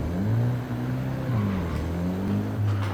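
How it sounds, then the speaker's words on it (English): In a manual-transmission driving simulation game, a steady synthetic car engine drone climbs in pitch, then drops sharply with each upshift. The pattern repeats twice, with no talking. "as we drive and we upshift, our RPMs are going to drop every time we upshift"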